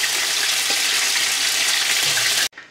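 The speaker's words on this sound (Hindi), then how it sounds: "बस इतना सा फ्राई करना है गाजरों को" Carrots sizzle lightly in hot oil for Kabuli pulao, a steady, close hiss of frying that runs evenly and then cuts off abruptly near the end.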